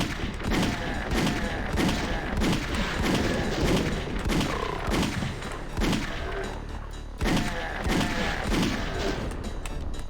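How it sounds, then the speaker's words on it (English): Rapid bursts of enemy chain gun fire in the Doom video game, loud and dense, with sustained rattling volleys, heavy thuds and booms, and brief pauses between streams. "That chain gun is just there to be annoying."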